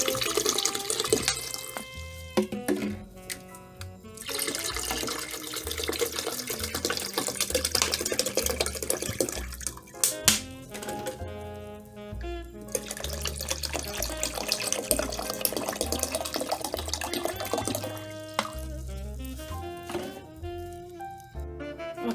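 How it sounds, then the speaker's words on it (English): Bottled water pours and splashes into a pitcher in a continuous, burbling stream, rising and falling in flow, loud and close, with no speech. "just pour your bottles of water over"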